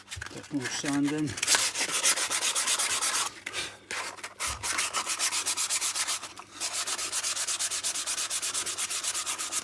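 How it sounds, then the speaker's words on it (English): A Gränsfors Bruks Wildlife Hatchet handle is hand-sanded in rapid repeated back-and-forth strokes, close and fairly loud, with a couple of brief pauses. "Bit more sanding."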